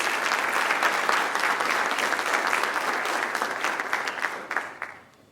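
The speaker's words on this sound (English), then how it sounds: "I want everyone to give Chris Young a round of applause." An audience at a Veterans Day tribute breaks into a round of applause, dense and sustained clapping that gradually thins and fades out at the end.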